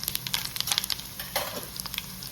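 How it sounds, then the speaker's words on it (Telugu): Garlic, mustard seeds and urad dal crackle and sizzle in hot oil, with sharp little pops and a brief stirring scrape, close up and fairly quiet, no voices. "ఇప్పుడు అదే నూనెలో తాలింపు వేసేసుకున్నాము."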